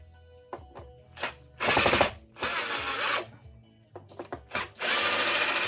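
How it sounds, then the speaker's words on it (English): A power drill backs screws out of a wooden panel in short whirring bursts, several brief pulses followed by longer runs of a few seconds each, loud and close with no talking. "Screws are coming out kind of well"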